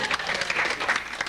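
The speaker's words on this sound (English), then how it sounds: "Clap, boys." Brief burst of crowd applause at a small gathering, dense continuous clapping from many hands lasting just over a second, moderately loud with no talk on top.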